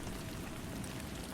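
Steady rain falls in a soft, even patter, a faint continuous wash of drops with no other sounds.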